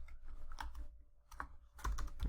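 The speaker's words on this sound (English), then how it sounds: "I'll just hit the home button, and then you can type in 2x" Keyboard keys tapped while working in Autodesk Inventor, a few muffled clicks in short clusters, close and fairly quiet over a low hum.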